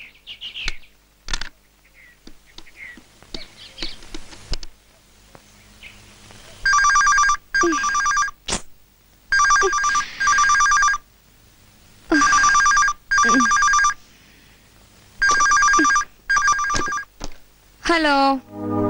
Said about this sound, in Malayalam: ഒരു ഫോൺ ചെയ്തോട്ടെ